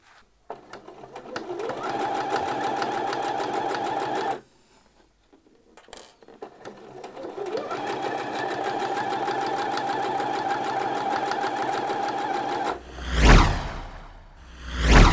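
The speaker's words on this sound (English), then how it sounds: "you want to do a line of stitching down this short edge from where you just pressed" A sewing machine runs steadily while stitching the short edge of a trouser waistband, two long close bursts separated by a brief pause, with a few clicks and fabric rustles at the end.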